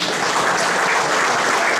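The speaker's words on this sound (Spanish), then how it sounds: "Pero qué bonito, bien fuerte las palmas" Guests at a baptism celebration in Ossining, New York, break into steady, enthusiastic applause, a dense wash of clapping from a crowd close by.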